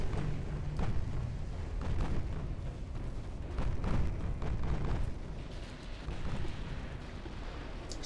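Torpedo detonations rumble in the naval warship game Ultimate Admiral Dreadnoughts, a dense run of deep, loud booms and blasts rolling one after another over a constant low roar.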